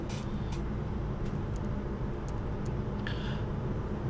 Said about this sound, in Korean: 50km 주행시 소음은 65에서 67dB 정도로 나오고 있습니다